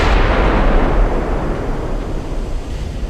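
A salvo of 16-inch naval guns in the video game Ultimate Admiral Dreadnoughts: a loud, deep, rumbling boom that fills the whole moment and slowly decays into a roaring wash.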